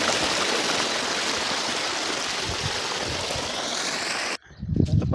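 Irrigation water pumped by a motor rushes into a cotton field with a loud, steady broadband gush, then cuts off abruptly near the end, followed by a brief low thump and rumble.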